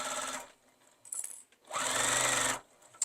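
A sewing machine stitches around the edge of a fabric iPad case in two bursts, a short run and then a longer steady whirring run, with quiet pauses between.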